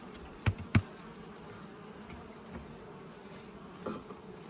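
Faint, steady honeybee buzzing drones throughout during a hive transfer, with a couple of sharp close knocks near the start and light handling noise.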